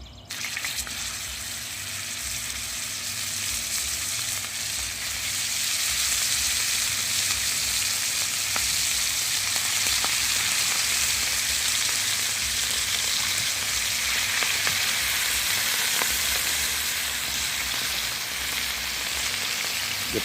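Thick pork chops sizzle steadily in a hot pan, a loud, continuous hiss and crackle that holds evenly for about twenty seconds with no talking.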